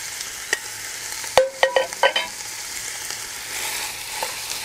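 Minced meat hits a hot pan of brown butter with a few sharp clatters and brief sizzling bursts, then a low steady frying hiss continues quietly.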